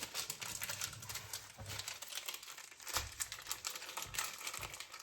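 Something being folded into triangles again and again, a steady close crinkling and rustling of paper or plastic with a few soft thumps, quiet and continuous.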